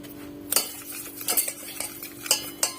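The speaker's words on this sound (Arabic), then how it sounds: "ندير المايزينا، وغادي ندير معها سنيده باش نخلطهم" Cornstarch and sugar being stirred together in a bowl, a utensil clinking against the side in several sharp taps and scrapes, close and fairly quiet, with no talking.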